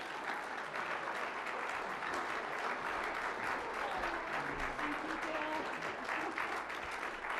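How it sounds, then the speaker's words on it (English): Steady, dense applause from a banquet audience at a 25th anniversary dinner, sustained and even throughout with no pauses, filling the room at close range. "So let's give a big round of applause to the little baby that came into the program and now is a 35-year-old woman"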